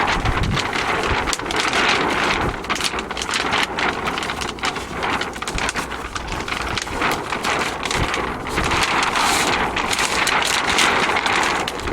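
Wind gusts outdoors while a sailboard is being rigged, buffeting the microphone with a loud, continuous rushing roar that rises and falls in strong gusts throughout, with no voices.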